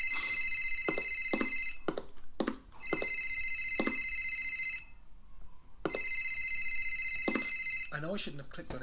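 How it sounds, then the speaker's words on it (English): Electronic telephone ring from a Unity video game, bursts of bright trilling tone separated by short gaps, loud and close, with no talking. "It should also stop the telephone from ringing when it does so by cutting off this sound effect here."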